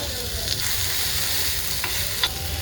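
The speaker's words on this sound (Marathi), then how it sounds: "छान असं भाजत आलेलं आहे आपलं वाटण" Ground masala paste roasting in a pan for a Maharashtrian shev bhaji curry, with a soft steady sizzle and a few light stirring scrapes, heard up close with no talk.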